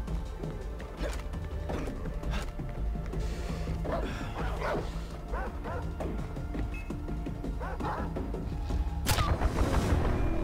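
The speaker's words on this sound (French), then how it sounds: "il y a le chien, ok, donc c'est le chien." Dog in the video game Far Cry 4 barking and yipping repeatedly amid gameplay noise and booms, loud and close, with a sharp burst near the end.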